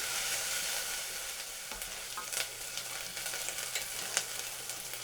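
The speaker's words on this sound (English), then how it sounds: "Make sure you keep that stirring. You don't want anything to stick and burn." Onions for a mushroom risotto fry in a pan, giving a steady, close sizzle with light scraping and a few sharp clinks as they are stirred continuously.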